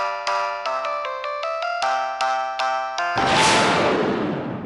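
A mobile phone ringtone in a Telugu TV serial scene, heard loud and close as a bright melodic chime sequence of repeated notes, ending in a sudden swelling wash of sound with no talking.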